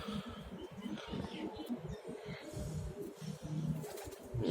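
Pigeons cooing in a home loft, a close, continuous low throaty pulsing of overlapping coos with soft rustles and faint background noise.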